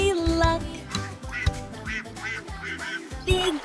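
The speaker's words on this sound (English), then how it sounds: "Quack, quack, quack, says the duck" Cartoon duck quacks repeat in a bouncy rhythm within a 3D animated kids' song, layered over a musical backing with no spoken voice.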